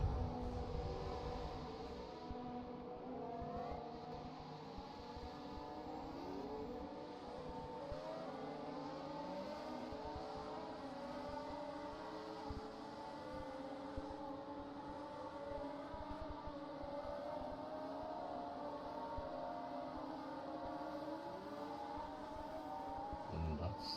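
Race cars leaving the garage and heading onto the track for a qualifying session at the Apex World Championship, their engines droning steadily with rising and falling tones, several cars overlapping at moderate distance throughout.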